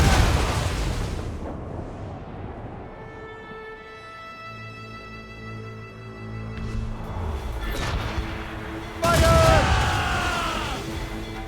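Ship cannons fire in a naval battle in the video game Assassin's Creed Rogue, with several booming blasts, one loud burst near the end, over a sustained mix of sea and battle noise.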